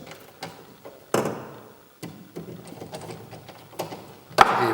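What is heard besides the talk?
tightening Allen bolts on a Shimano rowing foot stretcher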